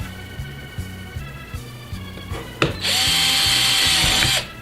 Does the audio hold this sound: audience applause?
no